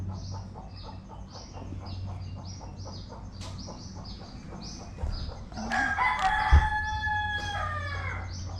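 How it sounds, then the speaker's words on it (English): Early morning, rapid repeated bird chirps fill the background, then a rooster lets out one long, clear crow nearby that rings out over the chatter. "The roosters have been going off since about 4 o'clock in the morning"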